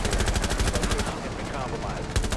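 Loud, rapid automatic gunfire from the video game Rainbow Six Siege, rattling in sustained bursts with a brief lull and a final burst, with a voice talking over the shots.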